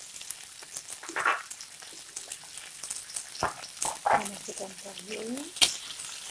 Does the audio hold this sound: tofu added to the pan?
yes